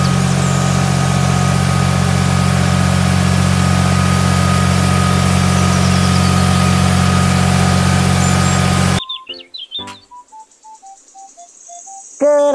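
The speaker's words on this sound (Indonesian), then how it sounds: "Mobil traktor." Loud, steady droning hum of a toy tractor's engine sound, which cuts off abruptly near the end, leaving brief electronic beeping tones.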